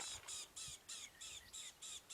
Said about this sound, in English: Noisy bird. What is that? I think that might be a fork-tailed drongo.